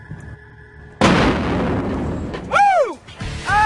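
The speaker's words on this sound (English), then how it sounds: "The explosion rocks the truck with a blast equivalent to almost half a stick of dynamite." A black powder bomb blasts inside a truck with one loud, sudden boom that rolls into a long rumbling tail, followed by whoops and cheers from a crew.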